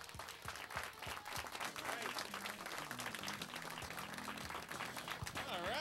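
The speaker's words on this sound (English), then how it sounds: "Applauding like you heard of me." A comedy club audience breaks into steady, loud applause as a comedian is brought on stage, a dense wash of clapping with a few whoops and crowd noise throughout.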